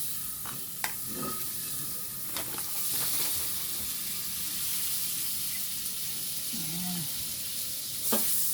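Butter sizzles steadily in a hot pan being heated again for chicken wings, a close, constant frying hiss with a few brief clinks and stirring sounds over several seconds.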